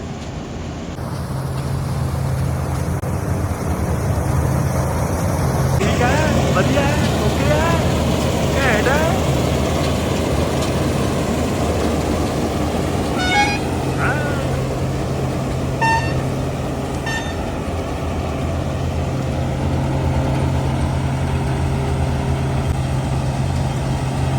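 A tractor engine runs steadily in a wheat field at harvest time, a continuous low rumble filling the scene with machinery noise and faint voices mixed in.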